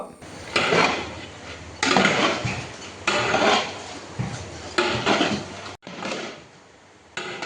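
Sliced bitter gourd is stirred with turmeric and salt in a copper pot. Loud, close scraping strokes come in repeated bursts, separated by brief pauses.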